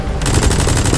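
Rapid automatic gunfire in Metal Gear Solid 5: The Phantom Pain, a dense, loud burst that starts abruptly and rattles on steadily for the full second.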